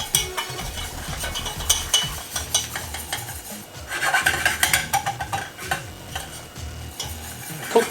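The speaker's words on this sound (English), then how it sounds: "we've got to cook the flour off. So we're going to whisk this in." Flour being whisked into a hot pan for homemade mac and cheese, a steady rasping scrape of the whisk with brief bursts of faster stirring, close and fairly loud, with no talk.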